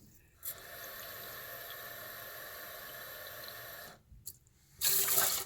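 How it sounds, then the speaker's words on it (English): Two cups of cold water pour in a steady stream for several seconds onto rice for sushi, stop briefly, then a louder, splashier gush follows at the end. "2 cups of cold water."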